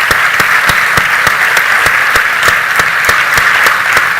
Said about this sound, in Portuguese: peço uma salva de palmas para os nossos convidados